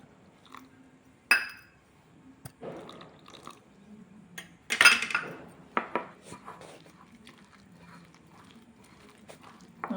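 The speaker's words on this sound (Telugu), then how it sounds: "తగినన్ని నీళ్ళు పోసుకొని కలుపుకోవాలి" Cauliflower florets for gobi 65 are mixed with batter, salt and water in a bowl, giving scattered wet squelches and sharp clatters of hand or spoon against the bowl. The sounds are close and fairly quiet, with no talking.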